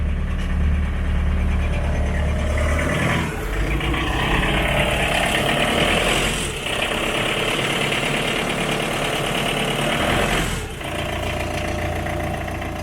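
Small-displacement diesel engine in an old Hummer idling right after its first start in years, a loud, steady, close-up rumble with a few brief dips in level and no talking.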